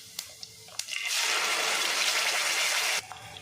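Ground spinach paste poured into a pan with dried red chillies and urad dal, giving a sudden loud sizzling hiss that lasts about two seconds before cutting off, with a few small clinks before it.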